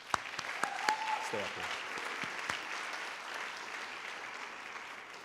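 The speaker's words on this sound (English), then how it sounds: "So give them a round of applause." A seated audience at a senior academic and athletic recognition ceremony applauds honored students. The clapping is soft and distant, a dense, even wash with a few sharper claps near the start, and someone speaks briefly over it.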